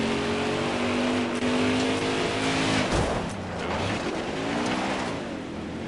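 Dirt race cars in the racing video game NASCAR Heat 4 drone along with a steady engine whine as they slide around the track, loud and continuous, with one car passing close by midway.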